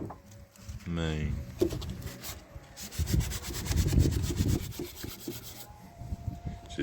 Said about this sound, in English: She just sands it so you can see the high and low spots